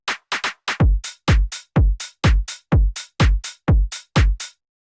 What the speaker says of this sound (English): I created this simple tech house beat, which is a kick, clap and hi-hat